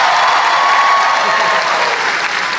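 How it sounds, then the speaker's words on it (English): Sustained applause from a fan convention audience at a Jeff Goldblum panel, a dense, steady wash of clapping filling the room for a couple of seconds and easing slightly toward the end. "Applause for with glasses."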